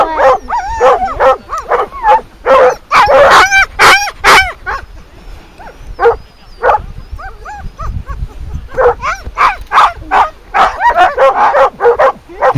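A pack of sled dogs on a snowy outing barks, yelps and whimpers in rapid, overlapping bursts, loud and close, with barely a pause throughout.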